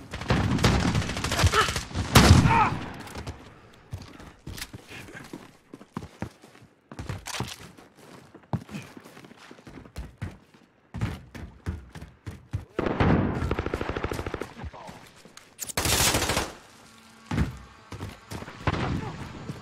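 Shotgun blasts in an online shooter game, a few heavy bursts spaced among thuds and footsteps, with other gunfire and game noise throughout.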